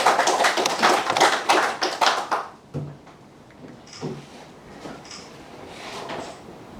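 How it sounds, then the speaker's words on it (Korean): An audience at a seminar on high-speed rail claps for a presenter. It is a short burst of fairly close clapping that fades out within a few seconds, followed by near silence with a few scattered taps. "여러분의 뜨거운 박수를 부탁드리겠습니다."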